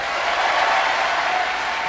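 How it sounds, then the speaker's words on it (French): Steady, dense audience applause in a television studio, loud and continuous without a break for the whole short stretch. "Vous pouvez applaudir."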